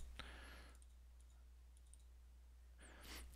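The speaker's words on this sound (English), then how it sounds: "So I double click this one" A computer mouse is double-clicked while working in Photoshop, giving one brief, faint click near the start against a quiet background hum, with a soft rustle near the end.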